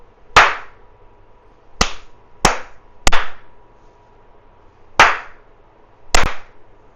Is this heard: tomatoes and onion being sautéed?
no